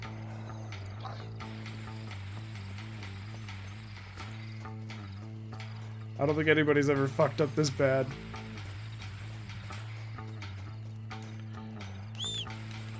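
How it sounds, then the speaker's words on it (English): A horse gallops toward the player in the Red Dead Redemption video game, a burst of quick clip-clopping hoofbeats rising for a couple of seconds over steady game ambience, with someone talking before and after. "Oh, my horse is coming."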